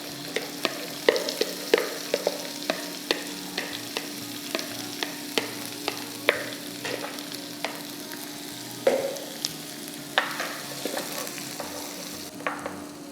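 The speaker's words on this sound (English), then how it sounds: "And then we will fry them." Vegetables fry in vegetable oil with a soft continuous sizzle dotted by sharp, frequent crackles and pops, close and moderately quiet, with no one speaking.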